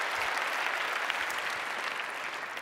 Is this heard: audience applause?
yes